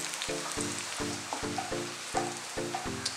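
Curry leaves drop into shallots frying in a clay pot for a mutton roast, giving a steady close sizzle over a row of regular, evenly spaced low humming pulses.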